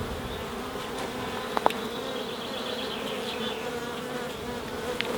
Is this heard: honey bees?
yes